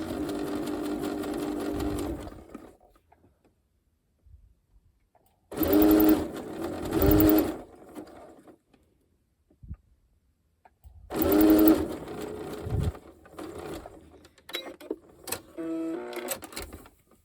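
A sewing machine stitching elastic onto fabric, two loud close bursts of rapid whirring motor and needle rhythm separated by quiet pauses, plus brief shorter runs near the end.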